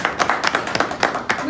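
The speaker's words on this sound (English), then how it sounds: "A round of applause." An audience at a college student induction program claps for faculty being introduced, with a string of uneven, sharp claps close by and voices talking alongside.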